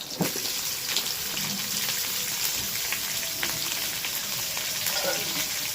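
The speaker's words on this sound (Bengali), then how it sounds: "রসুনটাকে হালকা ভেজে নেবো, বেশি ভাজার দরকার নেই।" Crushed garlic and onions frying in a pan for a winter methi chicken dish, giving a dense, continuous close sizzle and crackle at steady loudness with faint occasional pops and no talking.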